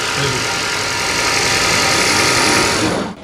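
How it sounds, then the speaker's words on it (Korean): A Kia Sportage hybrid SUV's engine running steadily at idle, loud and close with an even mechanical hum and no talk over it, cutting off at the end. "이 차량 어 엔진 일어났네요"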